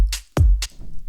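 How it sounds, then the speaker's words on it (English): Layered hi-hats in a drum pattern, a short hat stacked on a main hat, snap twice around a deep kick drum in a brief loud loop with no talking. "And this is just going to layer on top of every hi-hat like that."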